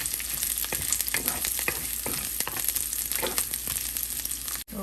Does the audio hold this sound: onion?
yes